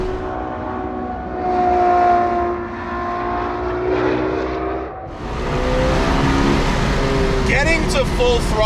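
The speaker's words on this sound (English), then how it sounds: "The full throttle in this is really an experience." A 2021 Ferrari 812 GTS, a front-engined Ferrari, roars loudly at full throttle. Its engine note climbs and surges over about nine seconds, with people talking over the sound.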